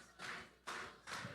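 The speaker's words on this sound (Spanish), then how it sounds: "Aplaudiendo todos." A church congregation claps along during worship, three broad, evenly spaced bursts of hand noise, faint and moderately distant.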